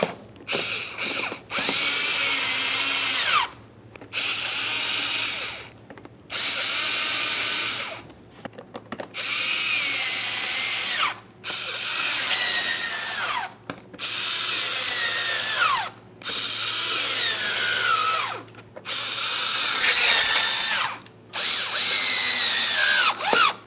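A power tool drives mounting screws into the grille mounting panel of a 2006-2012 Ford Fusion, about ten loud, close whirring bursts of a few seconds each, separated by short pauses and rising in pitch as each screw seats.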